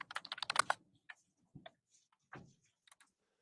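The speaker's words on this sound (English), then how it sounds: "all this clickety clack you hear is the judge typing" A judge types on a computer keyboard in a courtroom during a murder trial, giving a quick burst of clicky keystrokes followed by a few scattered taps and pauses, close and fairly quiet with no talking.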